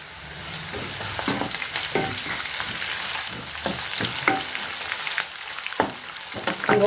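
Gongura chutney ingredients fry in a pan under a constant close sizzle, broken by repeated scraping knocks of a stirring spoon against the pan.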